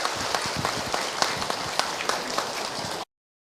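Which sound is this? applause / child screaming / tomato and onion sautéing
applause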